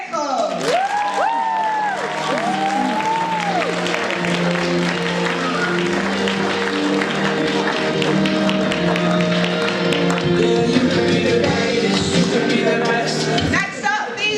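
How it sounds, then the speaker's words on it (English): An audience at a certificate ceremony of a youth public-speaking challenge claps steadily for many seconds, with scattered whoops and cheers and some crowd voices mixed into the sustained applause. "please keep that applause going for Fatou Shahab."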